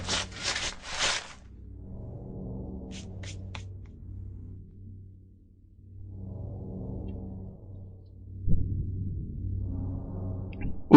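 James digs into raised ground in Silent Hill 2, heard as repeated rough scraping and rubbing strokes in three bursts, with a few sharp clicks between them, close and moderately loud.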